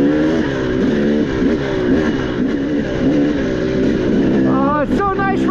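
A dirt bike rides through a muddy, slippery trail, its engine droning and revving steadily and loudly close by, pitch rising and falling as the throttle changes, with a voice talking over it.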